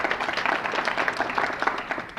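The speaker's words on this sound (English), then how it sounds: "You can applaud that." An audience at a Minnesota Atheists talk claps in a brief, dense burst of applause, steady and moderately loud throughout.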